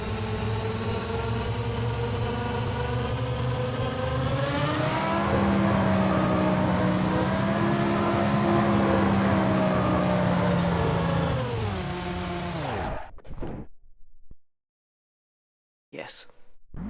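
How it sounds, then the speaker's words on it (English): A Formula One car engine in an Assetto Corsa Competizione racing sim screams at high revs, holding a loud, steady pitch with slight rises before cutting off abruptly into silence, followed by a brief burst. "Now that's what a Formula One car should sound like."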